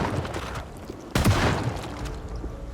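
A shotgun fires at zombies in the survival game Project Zomboid, one sudden loud blast with a burst of noise that decays into a rumbling tail over steady background noise.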